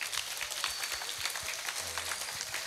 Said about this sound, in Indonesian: Mohon tepuk tangan secara kompak untuk Kabupaten Jepara.